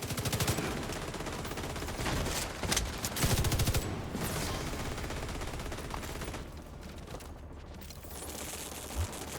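Rapid, sustained minigun fire in a video game, a dense mechanical rattle running nearly the whole time with a few sharper bursts early on, loud and close with no voices.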